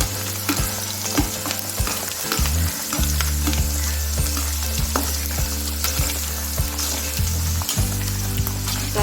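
Green chilies with garlic sizzle steadily in hot oil for a homemade mango pickle, with loud continuous frying and occasional stirring clatter throughout.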